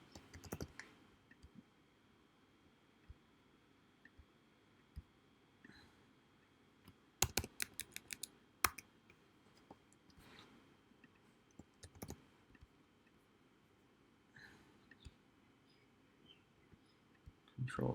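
Computer arrow keys are tapped at a desk while working in laser-cutter drawing software, quiet scattered clicks with a rapid burst of several presses near the middle, close and otherwise near-silent.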